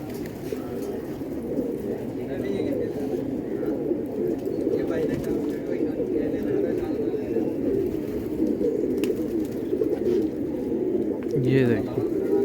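Orange-coloured khal pigeons coo steadily in a dense flock, a continuous low murmur of overlapping calls close by, with someone speaking over them.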